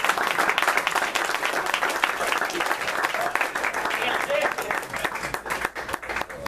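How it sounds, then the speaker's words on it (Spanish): Applause from the audience at a jazz drumming clinic, continuous thick clapping filling the room for several seconds at a steady, fairly loud level. "Y aplauso a Neil Pell, que de ahí fue."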